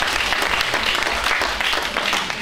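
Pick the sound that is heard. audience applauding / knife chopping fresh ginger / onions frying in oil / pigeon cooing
audience applauding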